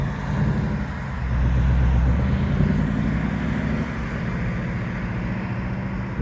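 A Ford Mustang Bullitt drives along with a deep, steady engine rumble and road noise heard from inside the car, rising slightly at one point, with no talking.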